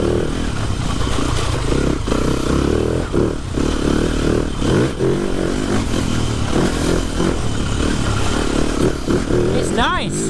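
A TM 300 four-stroke motorcycle ridden around a wet track, its engine droning and rising and falling close by, with clattering and scraping mixed in and a brief rising whine near the end.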